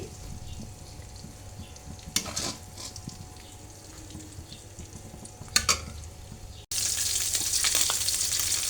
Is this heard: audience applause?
no